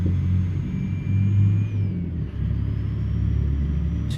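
A heavy truck's engine and turbo in Euro Truck Simulator 2. It drones loud and steady with a low rumble, and a faint whistling tone glides downward midway, then rises slightly as the engine carries on. No talking.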